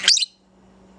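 A budgie gives a short, bright burst of chirps at the start, loud and close, then drops to near silence with faint low hum.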